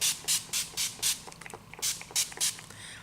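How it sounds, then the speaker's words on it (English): Urban Decay All Nighter setting spray is pumped repeatedly, about nine quick, crisp hissing spritzes in a loose rhythm with short pauses between, close and fairly loud in a quiet room. "Then I go in with my setting spray"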